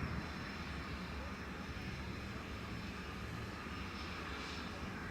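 A Jet2 jet aircraft lining up at the runway end at Leeds Bradford Airport, its engines giving a steady, distant broadband roar that holds unchanged throughout.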